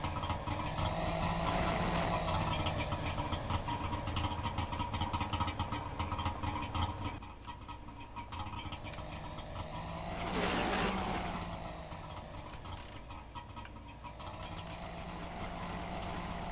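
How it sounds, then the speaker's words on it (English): A car engine in The Long Drive runs at a steady mid-pitched drone, swelling briefly as it revs and pulls away, then settling back to an even hum. "let's get that car started and moved."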